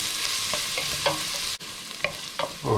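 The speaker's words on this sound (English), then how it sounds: "just as that onion starts changing colour a bit, before the garlic starts burning" Sweet onion and garlic fry in a pan with a steady, close sizzle while a utensil stirs through them, leaving a few soft scraping clicks and one brief dip in the hiss.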